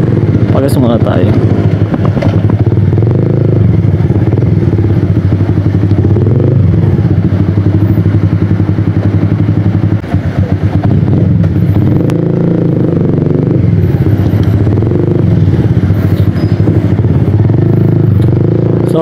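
A Honda Sniper MXi 150 motorcycle engine runs loud and close, a continuous rumbling idle and rev with some clatter, while a voice talks over it throughout.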